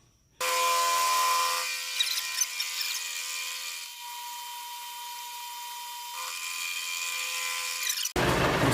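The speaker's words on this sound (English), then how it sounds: "I'm still cutting this slot, trying to. This stuff is hard." A one-inch-wide slot is cut into hard lathe tool stock on a machine, and the cutter whines loud and steady for about eight seconds. It starts abruptly, dips briefly a few times and stops sharply, with no talking.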